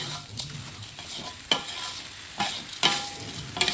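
Rice with turmeric being stir-fried in a pan, with repeated scraping strokes of a spatula over a continuous sizzle, loud and close with no speech.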